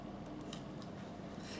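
Scissors snip thread while trimming a machine-sewn fabric postcard, a few faint crisp cutting clicks over quiet room noise, close and alone.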